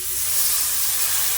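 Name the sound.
water poured into a hot pan of ash gourd leaves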